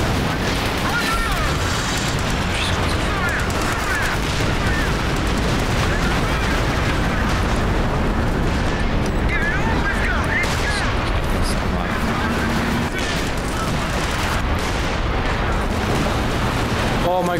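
Dense, continuous artillery barrage and booming explosions in a 4v4 WWII strategy battle on Lienne Forest with British Royal Artillery, a steady rumbling roar of shelling and gunfire throughout, with talk over the top.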